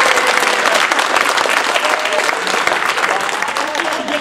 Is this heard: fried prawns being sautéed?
no